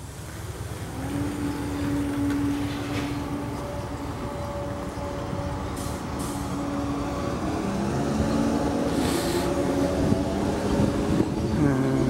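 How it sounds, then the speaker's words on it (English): A Southern Class 313 electric train departs Ford station for Littlehampton, with a steady traction whine and rolling rumble that builds gradually as it pulls away, heard from the platform. "313 204 departs Ford for Littlehampton."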